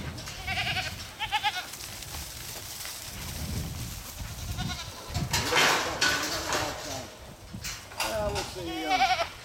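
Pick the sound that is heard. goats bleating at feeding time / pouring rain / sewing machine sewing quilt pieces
goats bleating at feeding time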